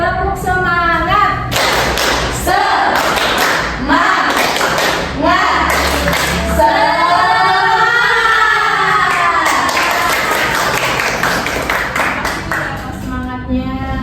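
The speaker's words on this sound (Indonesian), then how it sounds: "kita tepuk semangat terlebih dahulu ya" A class of students performs a rhythmic spirit clap together, a run of loud, patterned claps and thumps with voices chanting along, close and energetic throughout.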